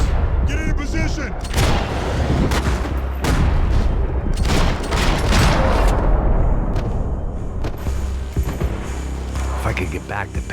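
A sustained firefight in the video game Max Payne 3, with dense bursts of gunfire, booms and mechanical clatter piling up loudly and almost continuously, and shouted voices now and then amid the shooting.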